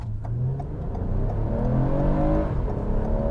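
2021 Toyota Camry XSE accelerating hard from a standstill for a 0-60 run, heard from inside as the engine note rises steadily through a gear change, loud and continuous with no talking.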